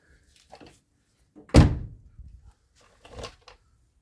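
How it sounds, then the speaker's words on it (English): A car door being shut to check its fit after welding in patches gives one solid thunk near the middle, with quieter handling knocks before and after in a quiet workshop. "See if the door still fits."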